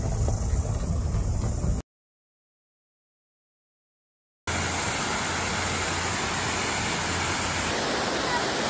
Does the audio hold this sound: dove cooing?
no